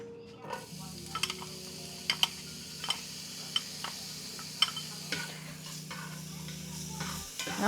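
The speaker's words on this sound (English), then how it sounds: "I'm going to go ahead and let this saute up" Shallot, garlic and ginger sautéing in oil for a ground pork stir fry, a steady low sizzle running throughout with a few sharp clicks and taps of a utensil against the pan.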